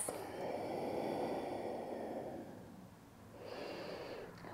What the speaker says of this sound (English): Let's take two more breaths.